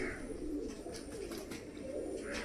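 Pigeons coo softly in a low, steady murmur of calls, heard alone without speech.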